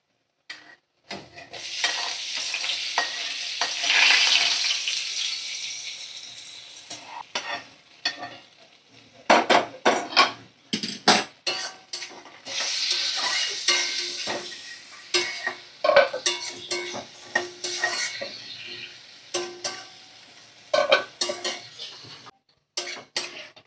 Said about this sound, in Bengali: তো দেখো কিছুক্ষণ নাড়াচাড়া করে নিচ্ছি আমি।